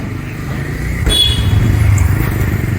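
A motorcycle engine idles and rumbles steadily nearby at the start of an overland journey, a low continuous drone with a slight swell partway through.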